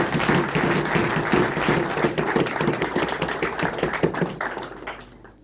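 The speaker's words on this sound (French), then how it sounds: "Je souhaite que vos applaudissements accompagnent cette courageuse femme." Audience applause at a doctoral thesis defence ceremony in an assembly hall, dense clapping from many hands sustained for several seconds, then thinning and fading out at the end.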